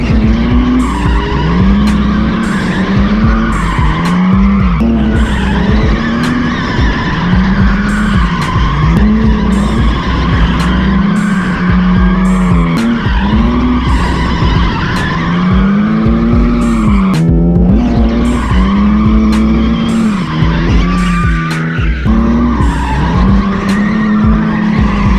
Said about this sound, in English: So we're out here wrapping up the drifting.